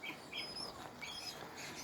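Small birds chirp in an animal enclosure alongside rabbits, feather-footed chickens and pigeons, with several short high tweets scattered over a quiet background.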